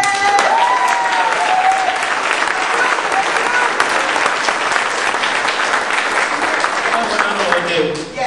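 Crowd at a Green Party presidential candidates forum breaking into loud, sustained applause, dense clapping filling the whole stretch with a few cheers mixed in before it begins to taper at the end.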